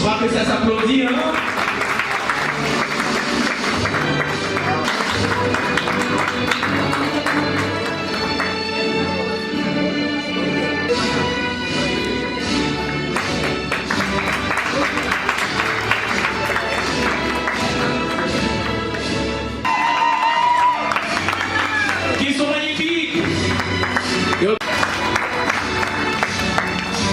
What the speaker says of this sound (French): Je crois que ça s'applaudit, hein?